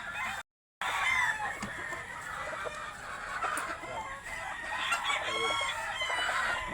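Young gamecock stags of Butcher, Tornado and Brown Red breeds crowing, several overlapping crows and clucks from nearby and farther birds, loud and repeated over a short stretch with a brief silent gap.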